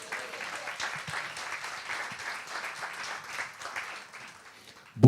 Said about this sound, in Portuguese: uma salva de palmas do Senhor